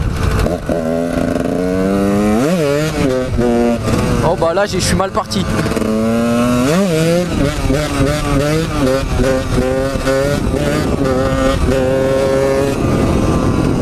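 A motorcycle engine revs up and down in surges during wheelies, close and loud, with someone talking over it throughout.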